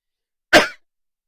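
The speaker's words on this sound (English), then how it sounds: "I was trying to sneeze, sorry." A single sharp sneeze from a person, abrupt and close, standing alone in otherwise silent surroundings.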